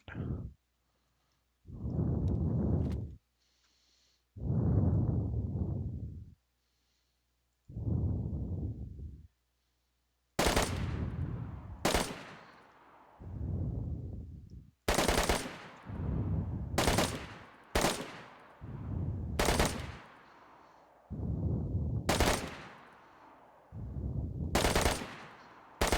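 Rifle fire in the survival video game DayZ, starting as a few spaced blasts and then turning into sharp, loud cracks fired in quick succession, each one trailing off in a brief echo.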